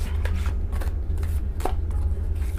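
Sticky tarot cards are shuffled in quick, close, uneven flicks and slaps, a steady run of short dull clicks over a low background hum.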